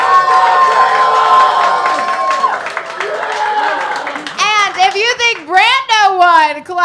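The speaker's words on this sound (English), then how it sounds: "clap it up right now" Loud live crowd at a comedy roast battle claps and cheers for a contestant, a dense burst of applause and whoops that gives way to excited shouting voices and people talking over the noise.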